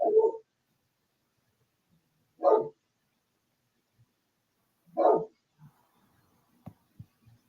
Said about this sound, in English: Is that Bentley barking at the door?